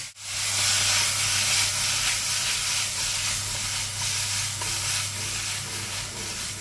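Vegetables and paneer for a fasting stir-fry sizzle loudly in a hot pan, a steady close hiss with soft shuffling as the pan is tossed, carrying on without a break.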